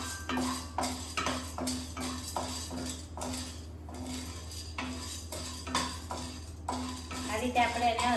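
Dal dry-roasting in a pan over a medium flame while a spoon stirs it, making repeated scraping and clinking strokes against the metal in a steady rhythm. The stirring sounds are close and moderately loud, with a voice speaking at times.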